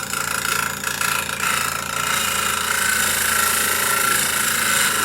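A woodturning tool ground flat on a tool rest against a slow-speed diamond sharpening wheel, a steady close whirring grind that holds evenly throughout with no talk.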